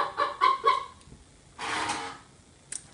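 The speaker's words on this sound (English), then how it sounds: "chicken cuckoo clock that somebody thought was quite funny to buy my little girl when she was younger." A novelty chicken cuckoo clock marks the hour with three quick electronic clucks, then a longer hissy squawk and a brief final chirp, fairly close in a quiet room.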